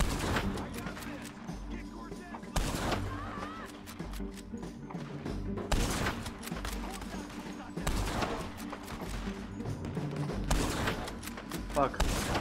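Gunfire in Red Dead Redemption 2 sounds as several sharp, spaced shots and heavier blasts, mixed with game music, thuds and voices speaking in the background.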